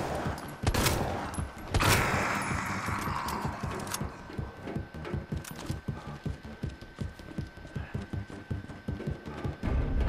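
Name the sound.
MP3 machine gun fire in Resident Evil 2 remake video game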